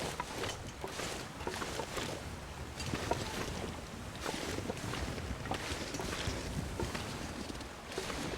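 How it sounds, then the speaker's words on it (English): A waterfall and a burning torch in the survival game The Long Dark make a steady rushing roar of falling water with a crackling, hissing flame mixed in, continuous and fairly loud throughout. "All I can hear is my torch and the waterfall."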